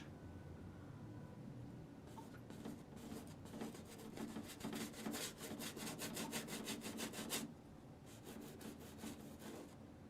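Rapid scratchy strokes of a bristle brush scrub oil paint onto canvas during an alla prima portrait, close and distinct, rhythmic bursts with a short pause before resuming, no talk.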